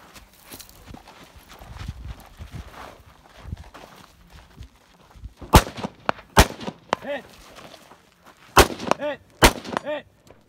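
Rifle shots at a 2 gun action match ring out as sharp, loud cracks, a pair midway and another pair near the end, with metallic ringing after, amid clattering footsteps and gear noise.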